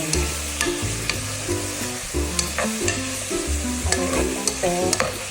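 Pinakbet vegetables and pork bagnet sizzle in a pan with fish sauce, a steady frying hiss broken by repeated scraping stirs, close and clear. Music plays throughout.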